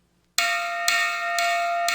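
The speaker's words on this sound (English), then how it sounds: "I quickly picked up the bell, ringing it loudly." Bell rung loudly in the 1994 Interplay video game Riddle of the Maze, four bright, ringing strokes about half a second apart that sound right after a brief near-silence.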